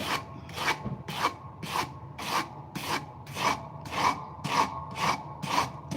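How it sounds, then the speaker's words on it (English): A kitchen knife drawn across a heavy grit sharpening stone in a steady rhythm of about a dozen raspy strokes, each a short scraping swish with brief pauses between, close and clear with no talking. "I'm hitting roughly the same sharpening angle that I was at."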